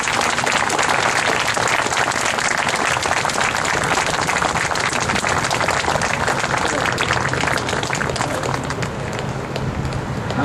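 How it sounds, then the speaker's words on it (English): Loud, sustained applause from a crowd at an outdoor World War II monument unveiling honoring its maker, dense clapping filling the whole stretch without a break. "I would appreciate a great round of applause for Don Parrino"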